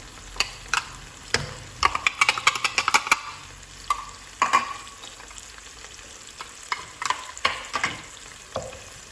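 Spices sautéing in a pan for tomato tuna rice, clusters of sharp scraping stirs and clacks of a spoon over a soft sizzle, close and uneven in rhythm.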